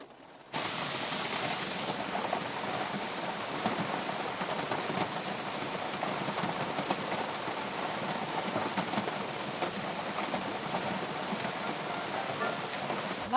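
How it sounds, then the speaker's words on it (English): Rain drumming on a Toyota RAV4 at a free campsite in Florida, heard from inside the car as a steady, dense hiss of drops that stays even throughout, with no talking. "I'm just hiding in my car for now, waiting for the rain to pass"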